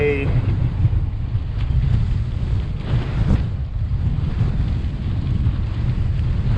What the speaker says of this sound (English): it's extremely windy right now, so I don't know if you guys can hear me